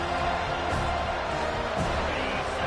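A home crowd roars in an NCAA 25 college football video game on third down, a dense, steady wash of cheering that holds at an even level from start to finish.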